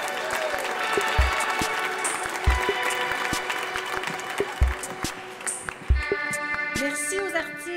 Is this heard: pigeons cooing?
no